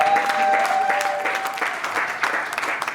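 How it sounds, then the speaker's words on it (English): Panelists receive applause from an audience at a women's forex event, a busy patter of many hands clapping at moderate distance, with a faint tone lingering early and the clapping thinning slightly toward the end. "Can we give another round of applause for our panelists?"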